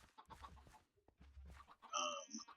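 Chickens in a Minecraft GregTech modpack farm pen make a few faint clucks, ending in one longer, louder squawk in a quiet scene.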